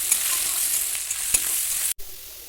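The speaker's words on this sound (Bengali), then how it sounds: "আলুগুলো ভালো করে ভেজে নিতে হবে।" Potatoes fry in hot oil with salt and turmeric for a cauliflower curry, giving a steady close sizzle with a few stirring clicks and a brief cut near the end.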